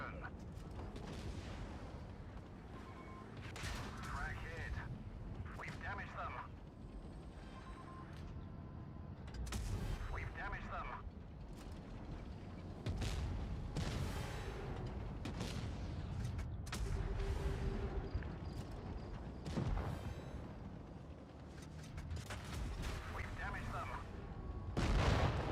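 Tank cannon fire and explosions crash repeatedly in a World of Tanks Blitz match, a dense run of booms and shots throughout, with players talking over the battle noise.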